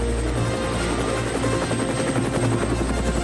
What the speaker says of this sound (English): Suddenly there was a strange whirring sound.